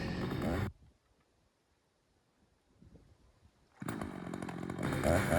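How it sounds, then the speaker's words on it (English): Close, loud chainsaw cutting into a tree trunk while felling a tree to clear space for a garden, roaring briefly, dropping to near quiet for about three seconds, then revving back up hard. "And I begin to work my saw around"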